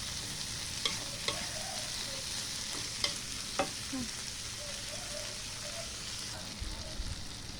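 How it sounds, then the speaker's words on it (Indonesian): Small bean sprouts frying in a pan, a steady close sizzle throughout with occasional clinks and scrapes of stirring. "cambah kecilnya digoreng juga"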